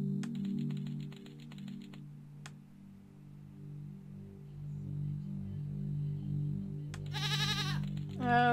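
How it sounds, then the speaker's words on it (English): In the video game Rusty Lake Paradise, a goat bleats in a short, wavering burst near the end. Before it comes a steady low droning hum with sparse clicking ticks. "it's gonna eat Mr. Goat, isn't it?"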